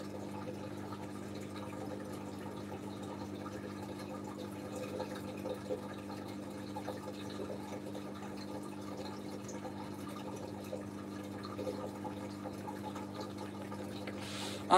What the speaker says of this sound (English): So we are just emptying out the machine on the rinse.